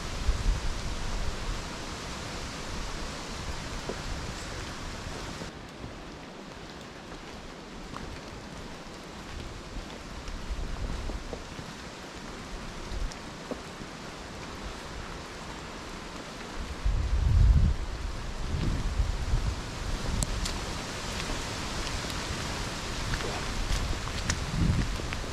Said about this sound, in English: Winds are getting pretty breezy out here.